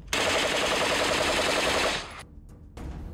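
An Israeli-made gun fires a rapid, continuous burst of bullets for about two seconds, loud and sustained, then cuts off into a quieter tail with faint rumbling.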